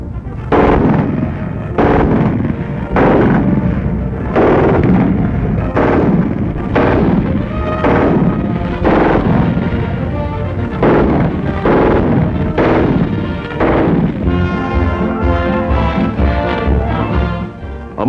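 Military guns fire during 1943 women's military training, a steady series of loud, booming shots about one per second that overlap into a continuous roar of blasts and echoes.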